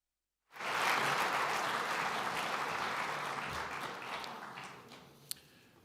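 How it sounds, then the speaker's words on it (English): At the Global Ireland Summit, an audience gives a warm welcome to Minister Thomas Byrne with applause that starts abruptly after a brief silence, swells quickly and then gradually fades, with one sharp clap standing out near the end. "Please give him a warm round of applause"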